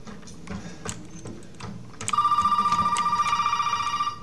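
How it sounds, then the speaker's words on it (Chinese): Telephone in the video game Resident Evil starts ringing halfway through, a loud rapid electronic trilling bell that pulses steadily after quieter ticking and tapping sounds. "电话响了。"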